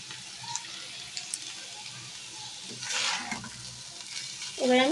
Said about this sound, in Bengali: এবার আমি 1 মিনিট থেকে 2 মিনিট ধরে এটাকে ভেজে নেব।